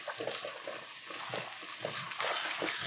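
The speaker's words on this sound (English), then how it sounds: "Our egg is still boiling away." An egg boils in a pot of water, a faint, steady bubbling and gentle churning that stays quiet and continuous throughout.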